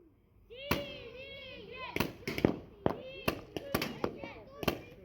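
Paintball guns fire during a game between fathers and sons. About a dozen sharp, dry pops come singly and in quick pairs at close range, while a voice calls out between shots.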